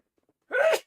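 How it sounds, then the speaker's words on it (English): A single short sneeze, a sudden sharp burst close to the microphone after near silence, ending quickly. "Sneezing."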